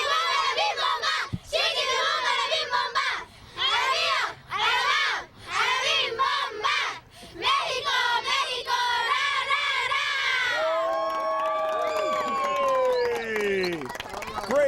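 A girls' under-11 soccer team shouts its team cheer together after a Mayor's Cup final, loud group chanting in several bursts under a counted lead-in, followed by excited high-pitched squeals and cheering from the crowd of kids.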